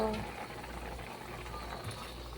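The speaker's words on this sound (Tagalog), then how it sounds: "Ayan guys, kumukulo na siya." Soup broth for a pork and beans dish simmering in a pot makes a low, steady bubbling, quiet and close, under a faint background hum.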